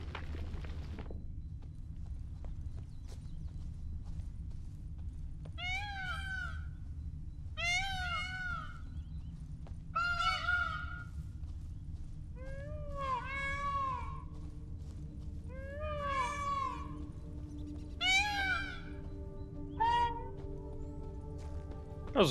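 Repeated shrill, wailing peacock calls from The Witcher 3: Blood and Wine ring out in short bursts over a low ambient hum, several cries spaced a couple of seconds apart.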